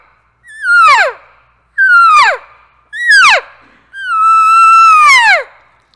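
Four loud, drawn-out calls in a row imitate an elk cow calling to a separated elk. Each is a high, pleading mew that slides downward, with the last one longest, and nothing else is heard between them.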